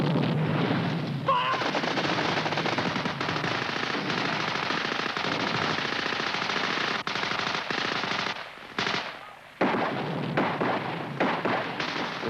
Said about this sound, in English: When that DF lands, Sergeant Arnold will then give the order for the cover group to open fire.